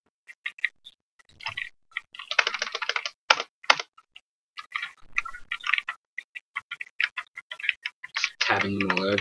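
Computer keyboard keys tap in irregular bursts while C# code lines are indented for a Unity endless runner game, with short pauses between keystrokes and a louder rustle at the end.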